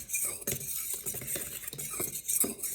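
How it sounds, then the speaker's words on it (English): A utensil stirring dry muffin ingredients (flour, baking soda, baking powder) in a bowl for vegan banana muffins, giving soft scraping and light clinking strokes in an uneven rhythm, close and fairly quiet, with no talk. "and that concludes all of our dry ingredients. So we're gonna mix that together."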